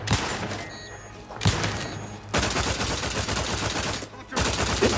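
Dense, sustained automatic gunfire in the video game The Outer Worlds 2 keeps up with rapid overlapping shots, loud and close, breaking off briefly twice before resuming.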